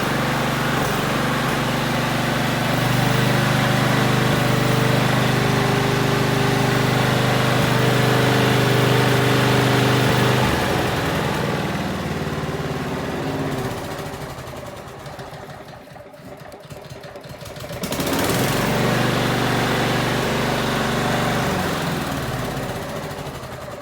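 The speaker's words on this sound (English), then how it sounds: "The lawnmower runs as well." A small lawnmower engine on a salvaged curbside mower runs steadily and loudly, dips in level for a few seconds, then picks back up to a constant drone.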